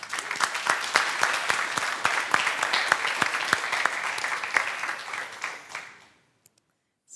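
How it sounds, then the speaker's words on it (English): Conference audience at a PHP developer event gives a round of applause, distinct sharp claps thick and steady for about six seconds before tapering off and cutting to near silence. "Big applause to them, I would say"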